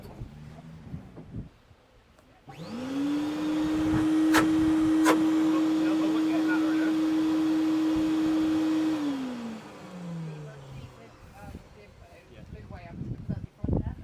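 A carpet cleaner machine starts up with a sharp rise into a steady, loud motor drone that runs for several seconds, then winds down and stops, with brief sounds around it before and after.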